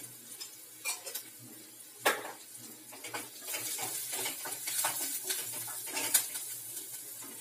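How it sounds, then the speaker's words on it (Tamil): Softened onions cook in a pan with curry leaves and turmeric powder, a quiet stir-fry with intermittent scraping and clinking of a spoon against the pan over a low crackle that grows somewhat busier toward the end. "வெங்காயம் நல்லா வதங்கிட்டு இப்போ கருவேப்பிலை போட்டுக்கலாம்"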